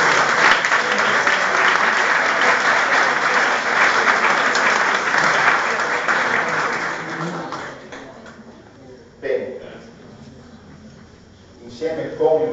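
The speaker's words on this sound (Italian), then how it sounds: "Ancora un applauso per questo." Loud, dense applause from a crowd at an awards ceremony for several seconds, then fading out, leaving quiet room sound with a brief burst of noise near the end.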